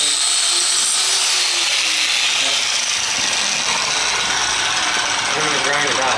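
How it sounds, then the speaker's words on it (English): A power grinder cuts through a pin on a dirt bike chain, producing a harsh, loud continuous grinding screech with shifting pitch that lasts the whole six seconds, up close. "I'm going to grind it out."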